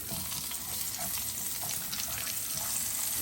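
Halved red peppers frying in a pan, a dense, even sizzle running unbroken from start to finish with no voices.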